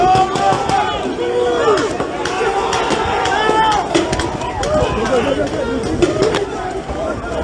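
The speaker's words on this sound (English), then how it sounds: "They're full firing on everyone." Sharp bangs and pops of gunfire ring out over a shouting, running protest crowd outside the CFMEU building in Victoria, with many irregular reports amid loud voices and commotion.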